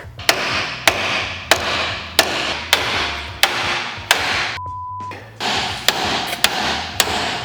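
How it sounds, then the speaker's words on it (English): Sharp metallic hammer blows ring out against an iron steering part on a Squarebody truck, one after another at a roughly steady pace, about a dozen loud strikes with a brief pause midway. "we can smack this with a hammer"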